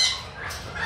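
A squawk from an exotic bird at a bird sanctuary, one loud harsh call under a second long, close by, with no talking.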